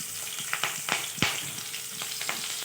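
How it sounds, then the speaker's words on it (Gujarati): Mustard seeds, cumin and green chilies crackle and sizzle in hot oil for a savory snack made from leftover rice, with a steady frying hiss broken by several sharp pops, close and alone with no talk. "હવે થોડીક રાઈ જીરું તતડે પછી આપણે આ લીલા મરચાં નાખી દેવાના છે"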